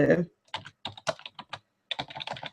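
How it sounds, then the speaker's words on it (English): Nearby computer keyboard typing in quick clusters of key clicks with short pauses between bursts. "you can hear me typing"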